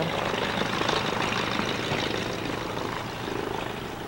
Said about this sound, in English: There's our plane leaving that just brought us in.